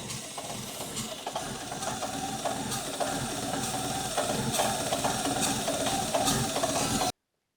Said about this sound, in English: I believe this engine is over-fueling like crazy.